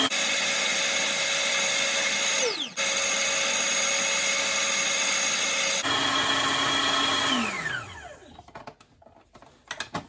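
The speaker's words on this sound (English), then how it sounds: "I'm going to chop it again." An electric food chopper whirring as it chops jerk seasoning ingredients: two steady, loud motor runs, each winding down as it shuts off, followed by faint rattling and scraping.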